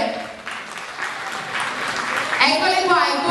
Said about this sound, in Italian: Voglio un bellissimo applauso per queste stupende ragazze